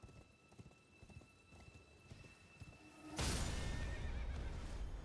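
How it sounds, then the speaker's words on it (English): Horse hooves clip-clopping in Elden Ring, with a whinny, then a sudden loud burst of noise drowns out the gallop. "There goes the horse."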